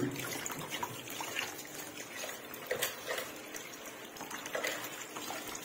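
Tap water runs steadily in a kitchen sink while potatoes are scrubbed under it, a continuous close splashing trickle with small surges and no talk.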